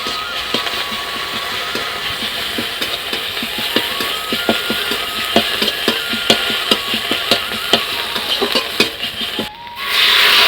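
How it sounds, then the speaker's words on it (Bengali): Ginger paste and oil sizzle in a kadai, a steady close crackle with scattered sharp spatters and ticks, ending in a brief dip and then a slightly louder hiss. "এই আদাটা এখন আমি কড়াতে দিয়ে দিচ্ছি তার সাথে একটু তেলও দিয়ে দিচ্ছি"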